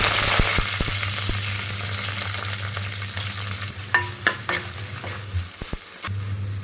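Sardines frying in a large, oversized pan give a continuous close sizzle and crackle. Scraping stirs and a few sharp knocks cut in toward the end, and no one speaks.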